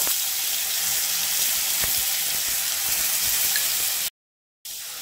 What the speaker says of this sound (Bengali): রসুনটা আগে একটু ভেজে নিব, নাহলে কাঁচা রসুনের গন্ধ করে